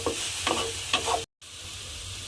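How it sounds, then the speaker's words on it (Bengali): Cabbage filling for patishapta is stirred and sizzles in a pan, with a few scraping strokes over a steady frying hiss, then a short dropout before the sizzle goes on. "এইবারে আমি আরেকটু নেড়ে চেড়ে পুরটাকে আরও একটু শুকনো শুকনো করে নেব।"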